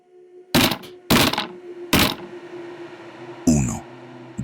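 Knocks on a door in a horror story, three heavy, evenly spaced thuds close by over a low steady hum, followed by a softer scraping rustle.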